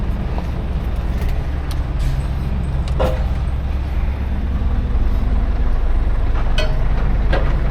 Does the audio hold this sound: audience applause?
no